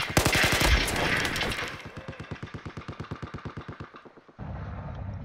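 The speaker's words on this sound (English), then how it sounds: "Who is shooting at me?" Sustained automatic gunfire in Battlefield, loud and dense at first, then settling into a steady, evenly spaced rhythm of rapid shots that fades before ambient battle noise returns.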